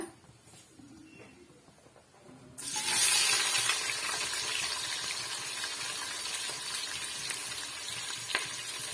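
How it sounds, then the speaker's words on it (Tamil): After a few quiet seconds, a sudden loud sizzle erupts as chopped onions and green chilies hit a hot pan, settling into steady close frying with occasional stirring clicks. "வெங்காயம் நல்லா வதங்கி வரட்டும் மிக்ஸ் பண்ணி கொடுத்துக்கோங்க"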